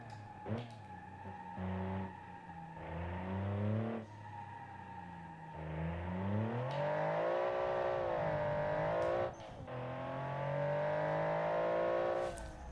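A simulated race car in a 2004 Analogue Supercars Challenge racing game revs hard through repeated upshifts, the engine note climbing and dropping with short tire squeals between gear changes. It stays loud and close throughout and no one speaks.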